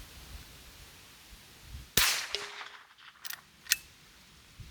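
Sharp .22 rifle shots from a Henry Golden Boy, fired at longer distance outdoors: one loud crack followed by a few fainter reports and ringing, spaced about a second apart, with no talking.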